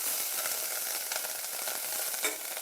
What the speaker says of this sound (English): Let's saute it.